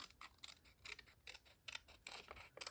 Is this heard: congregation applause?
no